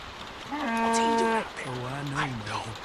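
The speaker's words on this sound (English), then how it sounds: "Okay, that was the cow." A cow in The Walking Dead game lets out two long, loud, close moos, the first higher and sustained, the second lower and drawn out, with a faint voice behind.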